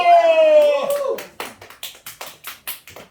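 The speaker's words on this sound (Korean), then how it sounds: "박수!" Church congregation at a Sunday worship service claps in a steady rhythm of about a dozen sharp claps, following a voice speaking at the start.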